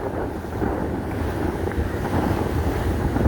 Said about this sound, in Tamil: இந்த முறை தான் இப்படி அதிக அளவிலான தண்ணி வீசுதுன்னு சொல்லி நம்ம அள்ளி நிறைய நோக்கி ரோட்டு முழுக்க வெள்ளமாக இருக்குது